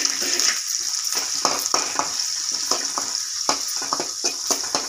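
Curry leaves and crushed garlic frying in hot oil for a tamarind pulusu, giving a loud, close sizzle with rapid repeated crackles and spatters throughout.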